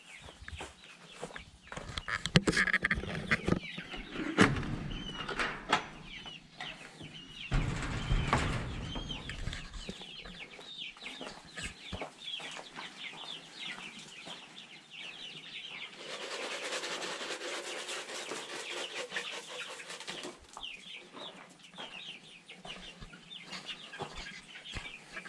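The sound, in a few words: chickens clucking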